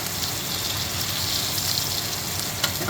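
Butter and crushed garlic sizzle steadily in a hot searing pan, a dense continuous crackle and hiss at close range with a brief louder spatter near the end.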